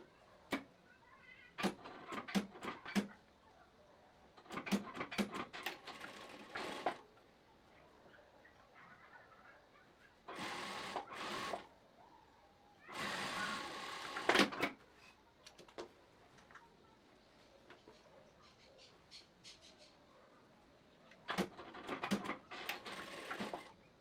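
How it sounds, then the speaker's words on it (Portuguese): A straight-stitch sewing machine runs a 1 cm seam across the top of wide-leg trousers, rattling in short quiet bursts and a few longer runs, with near silence between them. "É isso que a gente vai fazer na máquina reta agora."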